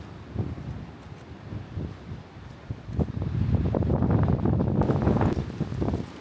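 Strong gusts of wind buffet the microphone in a wooded backcountry area, a low rumbling roar that swells louder in the second half with rustling, no voices heard.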